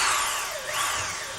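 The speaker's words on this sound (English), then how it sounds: "Now what I'm doing is I'll pre-drill just around the top here." A power drill whirs steadily as it pre-drills into a wall stud near the top during a house renovation, with its motor pitch rising and dipping slightly under load, close and loud.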